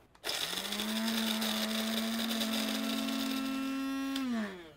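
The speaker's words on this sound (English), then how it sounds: "Then we're going to grind it. I like to use a coarse grind for the French press" A coffee grinder grinds coffee beans coarse for a French press, a loud steady motor whine that spins up, holds for about four seconds and winds down, heard alone.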